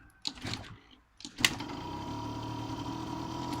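On a freezing -7°C day, a car engine is cranked after a few clicks and knocks, catches with a sharp burst, then settles into a steady, close idle drone.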